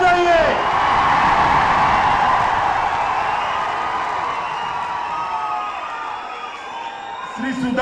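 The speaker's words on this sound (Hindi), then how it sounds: "जोर से ताली बजाइए।" A large crowd at a political rally applauds and cheers continuously, a dense wash of clapping with scattered whoops that stays loud throughout and eases slightly toward the end, with a voice speaking briefly at the start and finish.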